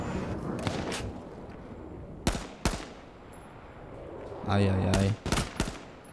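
Sniper gunfire in the video game H1Z1: scattered sharp cracking shots, a sustained burst near the end followed by a few more reports, while a voice exclaims briefly.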